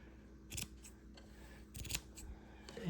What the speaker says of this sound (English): now we're going to show you cutting off the loom